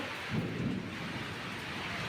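A low rumble of thunder rolls through early on over the constant roar of wind-driven rain on a rooftop garden, close and steady.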